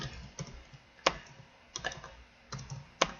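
Typing on a computer keyboard while filling in a Google Forms field, heard as short bursts of close key clicks separated by brief pauses, with no speech over them.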